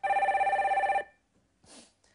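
A telephone rings in a Korean stock-advice call-in broadcast studio with two lines open, a loud steady electronic trill lasting about a second before cutting off, followed by faint rustling and a brief breathy noise.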